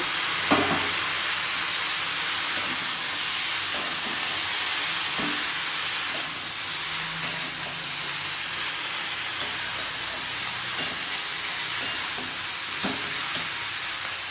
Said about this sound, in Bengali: দেখো সবজিটা ভাজা হয়ে গেছে, তারপরে একটু জিরের গুঁড়ো আর হলুদ গুঁড়ো দিয়ে দিয়েছি।